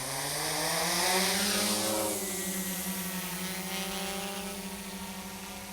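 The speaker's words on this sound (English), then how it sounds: "arm the quad. We're going to go ahead and take off." An XPX quadcopter drone with dual FPV cameras arms and lifts off, its rotors rising into a loud, close, steady buzzing whine that settles into a continuous hum.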